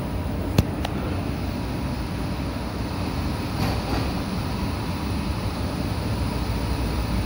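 An airport terminal people-mover train in Saudi Arabia arrives with a steady low rumble and rolling hum, with a few sharp clicks near the start, heard at moderate distance and without talking.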